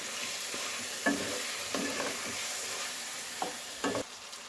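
Chicken with coriander and cumin powder is stirred in a sizzling pan for a chicken pulao, a steady fry hiss broken by several scraping stirs of a spoon against the pan, close and alone.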